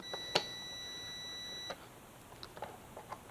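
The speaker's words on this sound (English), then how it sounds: "You can hear the meters beeping, it's good." A single high multimeter continuity beep sounds for over a second while checking Yamaha FZ6R motorcycle fuses, followed by faint clicks and quiet taps in a hushed room.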